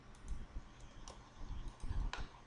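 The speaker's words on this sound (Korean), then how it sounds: "이 부분을 마우스로 클릭을 합니다" A few soft, sharp clicks sound close up in a quiet room, spaced irregularly over a couple of seconds.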